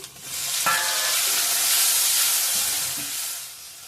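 Chopped tomato and ginger fry in a pan with a loud, close, steady sizzle and hiss, soft stirring scrapes here and there, and no talking.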